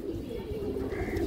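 Pigeons of Indian bloodline cooing in a low, steady drone close by, the soft coos running continuously through the short moment with a faint higher tone briefly rising near the end.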